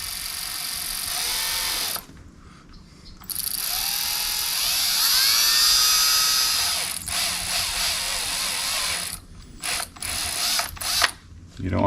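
A power drill bores a small hole for pulling the rear main seal on a Foxbody Mustang 5.0, whining in close bursts that stop and restart with short pauses, then ending in choppy pulses.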